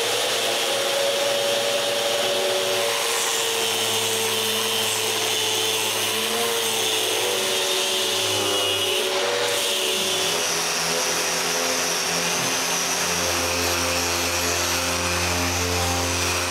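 A power sander works over the wooden case of a chest of drawers in a woodshop, a steady loud whirring drone with a shifting pitch that runs continuously throughout.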